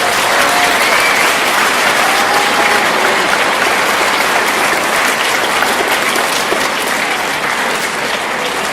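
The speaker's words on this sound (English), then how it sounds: "So one more round of applause." A packed middle school assembly audience claps steadily and loudly for a 25th anniversary celebration, a dense, unbroken wash of applause lasting several seconds.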